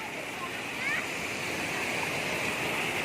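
A fast-flowing stream rushes over rocks with a steady, continuous roar close by, while a voice speaks faintly over the water.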